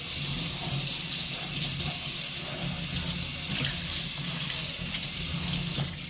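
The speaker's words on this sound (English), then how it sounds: "Let me wash this little thing out right here" Steady running water from a kitchen tap as a small utensil is rinsed beneath it during holiday dessert baking, a constant close splashing rush with faint clinks and no talk.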